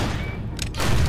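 A quick burst of gunfire cracks through a noisy, rumbling background of action in the game Guns, Gore and Cannoli, lasting only a moment.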